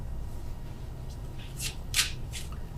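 Tarot cards are shuffled in a few short, crisp riffles over a low steady hum, close and fairly quiet, with no talking.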